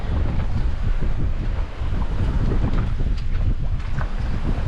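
A sailboat under sail in changeable wind and waves: constant rushing wind buffeting the microphone over the wash of water, loud and unbroken.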